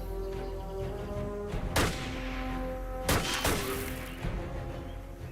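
Two sharp, loud gunshot bursts from a 1916 Thompson prototype gun during test firing, each a heavy crack with a trailing echo, separated by about a second and a half over a steady droning background.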